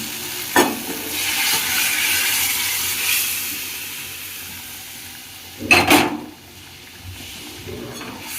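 Boiled vegetables (drumstick, bitter gourd and papaya) stirred into frying spiced bitter dal: a continuous close hiss and sizzle, marked by two louder clattering stirs against the pot, one near the start and one later.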